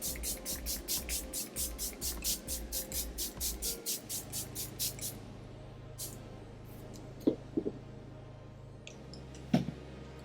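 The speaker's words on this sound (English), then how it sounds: "I'm gonna take the Milani Make It Last, the original, and spray my face." A rapid run of a dozen or so short, hissing pump sprays of Milani Make It Last setting spray in even rhythm, followed by quiet with a few faint clicks.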